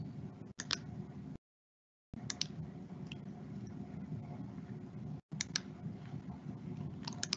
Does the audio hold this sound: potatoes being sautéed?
no